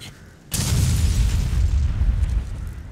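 In Resident Evil: Revelations 2, a sudden loud explosion bursts out after a moment of quiet and rolls into a long, deep rumble that slowly fades.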